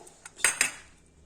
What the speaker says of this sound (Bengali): এই কলাই ডালের বড়িটা সেঁকে নেব, তেলে ভাজবো না।